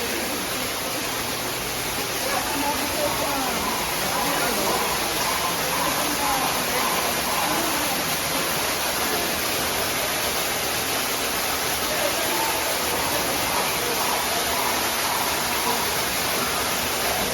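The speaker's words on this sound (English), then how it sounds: "Waterfall." Water pours steadily from a waterfall in Houston, making an unbroken rushing hiss that stays at an even level throughout.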